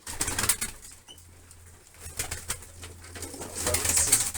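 Pigeons in a loft coo softly and flutter their wings, intermittent bursts of flapping and low cooing close by, rising toward the end, with no talk.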